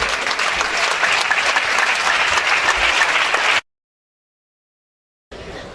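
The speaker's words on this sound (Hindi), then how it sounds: "अपने खुदावंद के लिए, उसके कलाम के लिए जोरदार तालियां बजाएंगे।" A standing church congregation claps loudly and continuously for several seconds, a thick crowd roar of hands that cuts off abruptly into silence and then briefly resumes.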